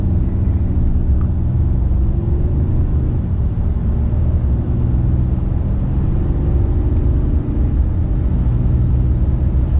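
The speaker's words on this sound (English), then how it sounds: "I'll do a full throttle acceleration now." A 2019 RAM 2500 Cummins pickup's engine drones loudly from inside the cab under full-throttle acceleration, a steady low roar with a slowly rising pitch.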